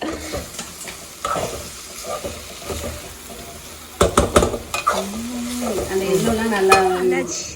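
Food sizzles and fries in a pan in a home kitchen while it is stirred, with scraping and clinking of utensil on pan and a few sharp knocks. Voices talk quietly under the cooking noise.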